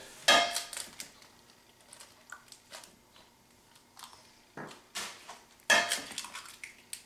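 Stuffed pepper filling with chopped basil, dried oregano and eggs gets mixed in a bowl, sparse clinks and knocks of a utensil against the dish, quiet and close, with a few sharper taps between softer stirring sounds.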